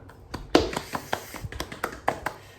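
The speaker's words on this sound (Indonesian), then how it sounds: "Kasih dulu tepuk tangan buat kita semua" A classroom of students claps their hands in a brief, uneven run of sharp, close claps and taps, with one louder clap early on and no talking.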